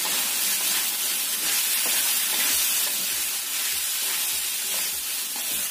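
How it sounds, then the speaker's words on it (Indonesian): Chopped carrots being sautéed in a hot pan for a home-cooked dish, giving a loud, steady sizzle and hiss with soft scraping stirs, and no talking. "Kita tumis sekalian wortelnya ya, karena wortel itu agak lama."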